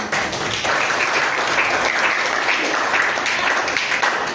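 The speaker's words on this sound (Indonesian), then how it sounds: "Ya, tepuk tangan dulu buat kita." A classroom of eighth-grade students applauds together in a steady, dense burst of clapping that lasts the whole moment and stays loud throughout.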